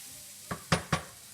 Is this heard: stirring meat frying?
yes